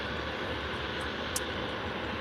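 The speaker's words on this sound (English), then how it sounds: "this one is just a white full A330 by Air Tanker" An Airbus A330 jet airliner operated by Air Tanker at Faro airport gives off a steady, unbroken engine roar that stays even in loudness throughout.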